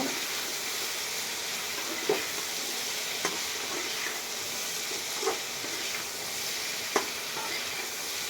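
An eggplant pickle with dried mango powder (amchur) is stirred as it fries in a pan, giving a steady, close sizzle broken by a few soft scrapes of the spoon, with no talking.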